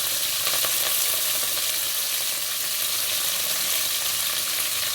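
Onion, green chillies and curry leaves sizzle steadily in hot oil in a pan for a Telangana-style bottle gourd dal, a dense, even frying hiss with no talk.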